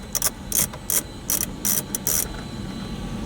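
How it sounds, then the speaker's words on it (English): A ratchet with extensions clicks in short bursts while loosening a bolt inside a 2014–2019 Toyota Highlander dashboard. About seven quick, close ratcheting rasps are separated by brief pauses, with no talking. "what you're going to do is you're just going to loosen the bolt"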